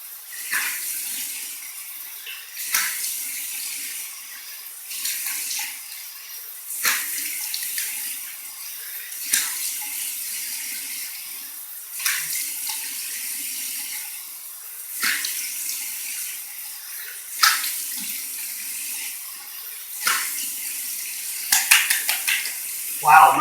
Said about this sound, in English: now we're going to do cold water rinse, close the pores